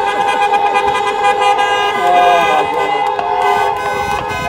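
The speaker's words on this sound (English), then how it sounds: "Just honk your horns for DJ real quick." Car horns at a drive-in graduation honk together in a loud overlapping chorus of sustained tones, some cars holding long blasts and others giving short toots, with engines idling beneath.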